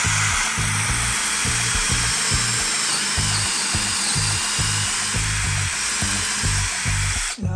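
A power drill bores holes for a handmade iPad stand, running loud and steady with repeated low pulsing bursts as the bit cuts, continuing alone for several seconds before cutting off sharply at the end.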